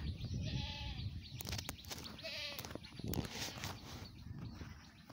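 A mother goat bleats repeatedly outdoors, calling for her kids with several wavering cries spaced across the moment, set against steady rustling background noise and faint other animal sounds.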